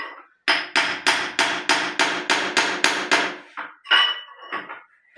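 Repeated hammer strikes chip solid set cement out of a ceramic Indian squat toilet P-trap, a steady run of about ten sharp knocks followed by a few irregular blows, close and unaccompanied.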